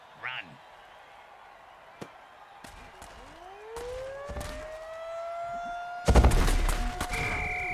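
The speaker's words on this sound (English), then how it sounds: "Why do I hear an air raid siren?" An air raid siren wails in the Mutant Football League video game, a rising tone that swells from about two seconds in and holds steady, with a burst of loud crowd and game noise near the end.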